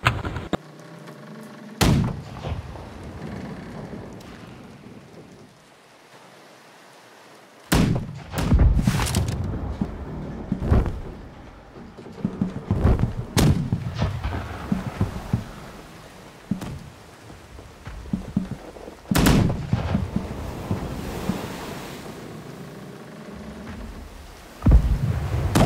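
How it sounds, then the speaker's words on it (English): Ship cannons in the naval game Blackwake fire in separate heavy booms with crackling tails. They come irregularly, some close and loud, others more distant, between quieter stretches of ambient noise. "You need to load the portside cannons!"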